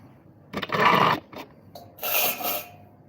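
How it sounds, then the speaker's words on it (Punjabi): A spoon scrapes the pulp out of a bitter gourd in two close, rasping strokes, the first longer and rougher, separated by a brief quiet pause. "ਇੱਥੇ ਹੁਣ ਚਮਚੇ ਨਾਲ ਕਰ ਲਾਂਗੇ ਆਪਾਂ ਇਹਨੂੰ ਖਾਲੀ"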